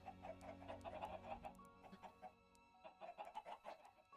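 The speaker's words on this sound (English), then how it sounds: "like 14 chickens in there" Many Minecraft chickens crowd a pen, giving a quiet, busy chorus of overlapping clucks and short squawks with small gaps between bursts.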